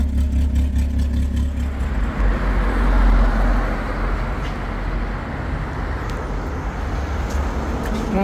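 A tram rolls past along a city street abroad, a loud, steady rumble with engine-like drone that fills the whole stretch, close by and continuous.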